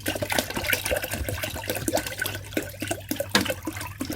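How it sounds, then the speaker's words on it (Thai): Four liters of bottled drinking water poured into a batch of date, honey and lime wine, a steady close splashing and trickling of liquid with no talk over it. "เราจะเติมน้ำส่วนที่เหลือ 4 ลิตรนะคะ"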